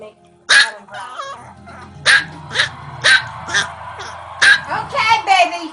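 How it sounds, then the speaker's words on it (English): A small dog barks repeatedly in sharp, loud bursts, about five or six yips spread unevenly across the stretch, with a voice and other talk heard between and under the barks. "The crazy dog barking a lot."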